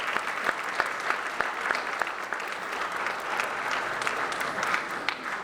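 At a book signing, a modest audience gives a round of fairly soft, even applause. The mixed clapping continues steadily throughout, with no talk over it.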